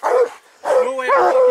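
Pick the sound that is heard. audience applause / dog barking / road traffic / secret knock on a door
dog barking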